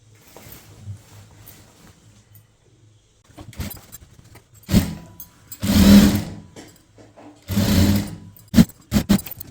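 A sewing machine stitching a chudithar sleeve around the armhole, running in short, uneven bursts that grow louder, with starts and stops and brief clicks between.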